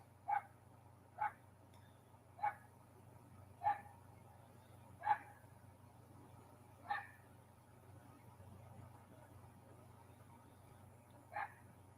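A small dog barks from a distance, about seven short sharp yaps spaced a second or so apart, faint over a low steady background hum, with no one talking.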